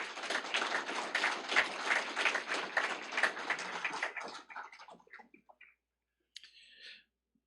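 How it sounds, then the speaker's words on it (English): A small audience at a career and technical education signing day event claps for a student, a few seconds of close, uneven clapping that thins to scattered claps and fades out. "Let's give John a big round of applause"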